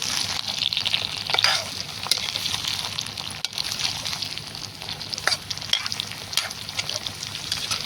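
Brinjal curry frying in a pan while being stirred, a continuous close sizzle with rhythmic scraping and wet sloshing strokes of the spoon throughout, no talk.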